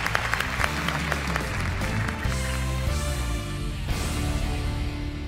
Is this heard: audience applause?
yes